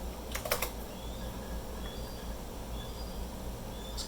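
Brisk bursts of keystrokes on a Monterey K101 keyboard with Blue Alps switches, attached to a 486 computer, clack near and fairly loud at first, then trail off over a steady low hum.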